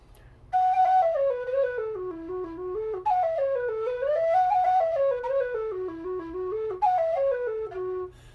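A carbon-fiber tin whistle plays a bright, clear, crisp melody in close, flowing phrases that repeatedly step downward, with no talking.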